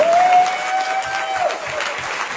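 Audience applause at a Minnesota gubernatorial debate, steady crowd clapping throughout with a faint tone running over the start.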